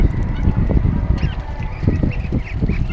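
Ducks on a farm call with repeated honking quacks that run through the whole stretch, near and fairly loud over a constant low rumble.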